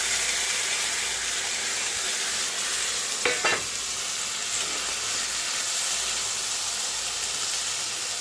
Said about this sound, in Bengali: তেল গরম হয়ে গেছে এবার মাছটা দিয়ে দিলাম